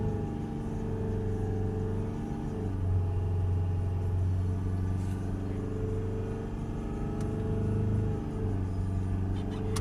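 Mercedes ML250 CDI 2.1 diesel engine held steadily around 3000 RPM, a loud continuous hum and rumble with slight rises and dips in pitch as the revs are held.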